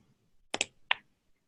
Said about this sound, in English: Oh, I can hear someone typing.